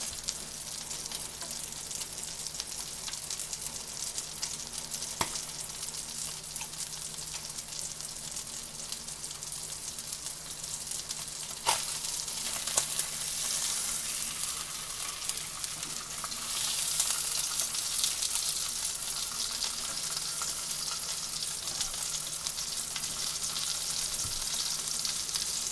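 Rainbow trout fries in butter with a dense, continuous hissing sizzle, close and even, swelling slightly louder partway through, with a few faint clicks and no talk.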